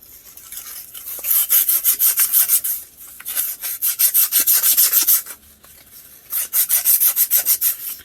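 Steady back-and-forth rasping of sandpaper on a threaded part of a 1987 KE100 motorcycle, in three bursts of quick strokes separated by short pauses, close up with no talking.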